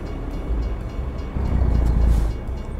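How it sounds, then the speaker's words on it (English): A train in American Truck Simulator rumbles past, a low, heavy roll that swells in the middle of the clip and then eases off, with no talking over it. "There is a train."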